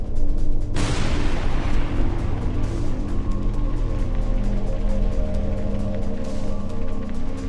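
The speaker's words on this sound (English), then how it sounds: "This car was on fire when it suddenly exploded." A burning car explodes with a sudden loud blast, followed by a sustained roaring, crackling rumble of fire with no voices.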